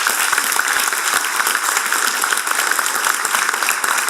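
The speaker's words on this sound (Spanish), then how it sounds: "¿Les parece que recibamos con un fuerte aplauso a los panelistas?" Applause from the audience at a panel talk on renewable energy welcomes the panelists, a steady wash of many hands clapping through the whole stretch with no voices over it.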